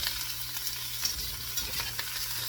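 Ham fries in oil in a pan, a steady close sizzle with occasional scraping stirs, and no talking.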